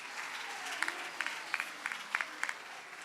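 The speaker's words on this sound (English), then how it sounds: "Can you please give them a round of applause again" Light, thin applause from a small group at a Grade 12 national exam results release, with sparse claps patting along in a loose rhythm.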